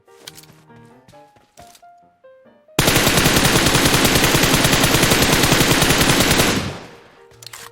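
Rapid automatic gunfire in PUBG Mobile erupts after a few soft tones and clicks, a loud, tightly spaced stream of shots lasting nearly four seconds before cutting off into fading echoes.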